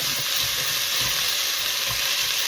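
Soup ingredients, finely sliced carrot among them, stirred in a pot over heat, a loud, steady sizzle with faint spoon scrapes, close and unbroken, no talk.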